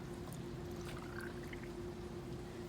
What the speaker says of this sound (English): we're going to very carefully pour the inner cylinder water in